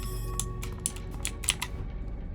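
Quiet computer keyboard typing, a few sparse, crisp key clicks at an irregular pace over a steady low background hum, with no talking.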